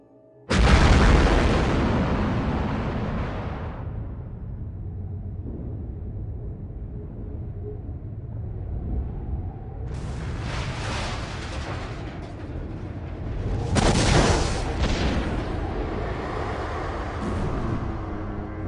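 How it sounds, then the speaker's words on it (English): A huge hydrogen bomb blast: a sudden deep boom that rolls on as a long, heavy rumble, with further surging roars swelling up later in the sustained thunder. "This is the power of a hydrogen bomb."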